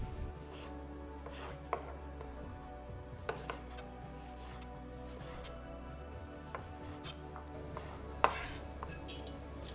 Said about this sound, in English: First thing we're going to do is chop our lovely tomatoes.